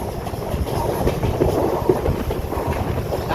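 The Kolkata–Sairang Express winds through the hills of Assam with a steady, close rumble of wheels and carriages, faint clickety-clack and wind buffeting throughout.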